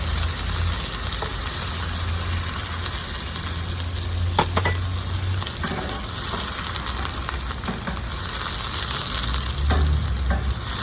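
Onion fries in a pan for Indian chicken tikka masala, giving a loud, steady, dense sizzle with occasional light stirring scrapes throughout and no talk.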